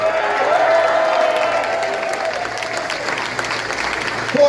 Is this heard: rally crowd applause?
yes